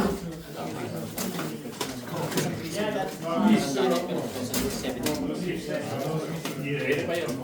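A pigeon coos at a bird auction among a crowd, the soft low cooing partly buried under continuous nearby chatter and room noise.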